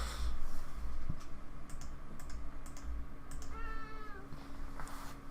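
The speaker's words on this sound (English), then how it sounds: "You're a cat, you don't know anything." A pet cat named Cicero lets out a short, close meow partway through, heard over steady computer keyboard typing and mouse clicks against a constant background hum.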